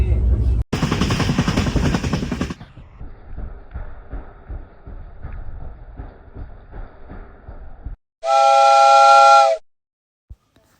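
A train whistle sounds at a station, a loud steady tonal blast near the end after a stretch of rumbling station noise and an earlier burst of loud broadband sound.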